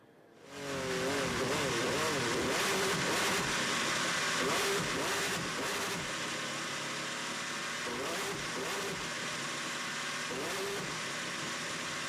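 Race car engine at the 2017 Le Mans 24 Hours climbing a hill, a loud sustained roar with rising and falling revs as it passes, other cars droning in the background and a voice talking over it.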